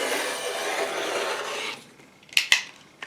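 A rotary blade slices along a ruler through quilt fabric on a cutting mat, a steady rough rasping cut for about a second and a half, then silence broken by two sharp clicks of the tool being set down.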